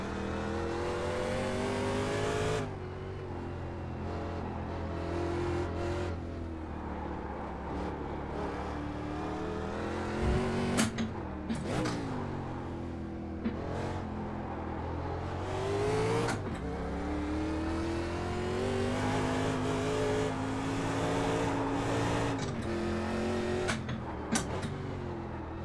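1987 NASCAR Winston Cup race car in the iRacing video game, engine droning loudly and continuously, rising in pitch through the gears and dropping sharply at each shift, with occasional clicks.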